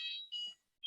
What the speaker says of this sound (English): That was your digital saturation alarm again.